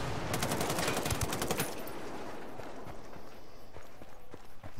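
Rapid automatic gunfire in the video game Ghost Recon Wildlands, a dense burst of loud rattling shots at the start, then scattered distant pops and crackles fading under background noise.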